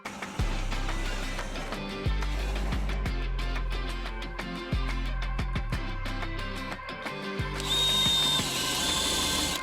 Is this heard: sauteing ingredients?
no